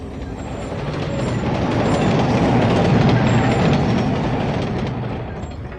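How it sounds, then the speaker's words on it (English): A train runs along rails in the video game Carrier Command: Gaia Mission, giving a steady, loud rumbling roll that swells toward the middle and eases off, with no voices over it. "Doesn't really seem like much of a train, it's like one car."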